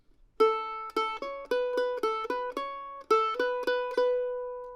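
Mandolin picks out a phrase of the fiddle tune "Pretty Red Lips", clear bright plucked notes in a lilting uneven rhythm, close and solo with no voices.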